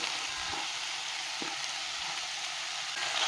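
Onion and carrot sizzle as they fry in a pan, a steady dense hiss at close range with a few soft stirring knocks and no voices.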